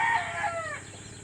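A rooster crows once nearby on a farm, a long drawn-out call that fades into quiet clucking and soft background noise.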